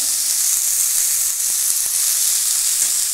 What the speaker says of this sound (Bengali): মোচাটা আমি ভেজে নিয়েছি মশলার সঙ্গে।